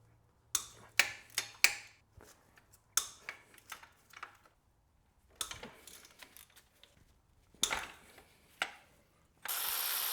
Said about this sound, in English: I'm actually going to go and try and disconnect the engine mount arm from the engine just to give us a little more side clearance